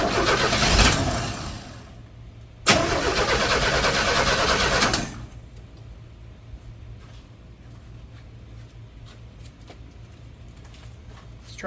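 A 1981 Chevrolet C10 pickup with leaves in the carburetor cranks and catches in two loud bursts of engine noise. The second burst lasts a couple of seconds, then the engine drops to a quiet, uneven idle.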